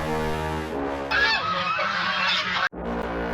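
Ducks honk loudly and repeatedly at close range, overlapping nasal calls in a busy flock, with a brief cut near the end.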